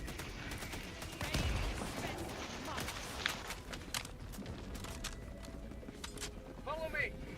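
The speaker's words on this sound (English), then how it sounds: "It's auto cannon." Autocannon fire in the Helldivers 2 video game, a scatter of sharp gunfire bursts over a dense, noisy battle mix, with voices and other in-game clatter throughout.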